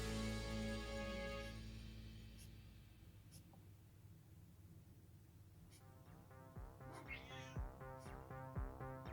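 A cat meows several times, fairly close, with irregular short cries over soft background rustling.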